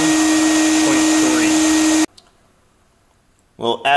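An insulation blowing machine running loud and steady with a constant motor whine for about two seconds, then cutting off into near silence before a voice starts speaking at the end.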